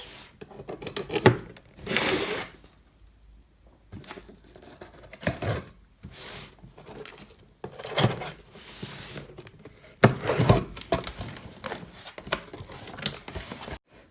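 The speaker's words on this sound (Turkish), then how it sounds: "Diğer kolimi hemen açıyorum arkadaşlar." A Farmasi cosmetics parcel box being opened at close range: bursts of cardboard rubbing, tearing and scraping come in irregular clusters separated by quiet pauses.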